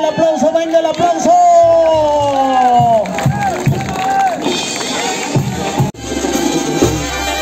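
A crowd at a jaripeo in San Vicente cheers and claps in the distance beneath a loud announcer's voice over a loudspeaker, which dominates the scene throughout.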